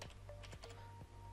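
Quick keystrokes on a computer keyboard: a short, quiet run of four or five close-up clicks, uneven in rhythm, with no voices.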